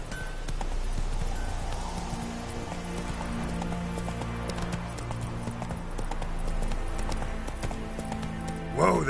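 Hooves of Roach, the horse in The Witcher 3, clip-clop steadily at a gallop throughout, close and rhythmic over a low rumbling backdrop, with a brief neigh near the end.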